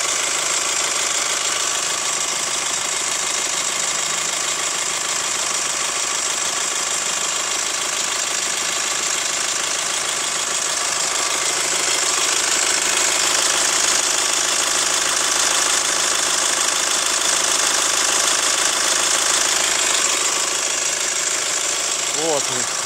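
A diesel car engine idles with a continuous metallic knocking and ticking, steady and close throughout. Someone talks over it.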